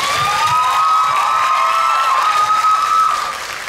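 Crowd at a Thai fan event for the duo BasCop applauding and cheering loudly and continuously, with a high sustained tone running through the noise before the applause fades slightly at the end.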